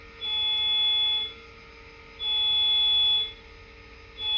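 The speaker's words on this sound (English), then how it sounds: "That horn is really annoying" Horn of a Walthers SD70M model locomotive sounding in two long, steady electronic blasts separated by a short gap, with a third beginning at the end; thin, buzzy and fairly loud, with no talking.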